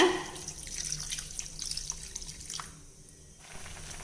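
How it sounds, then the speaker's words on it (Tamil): Tamarind water trickles and splashes as it is poured into a pot of home-cooked sambar, a faint, steady liquid pour with small drips, heard close and alone. "இப்போது சாம்பாருக்கு தேவையான புளித்தண்ணி கரைச்சி வச்சுருக்கேன், அதையும் சேர்த்துறேங்க."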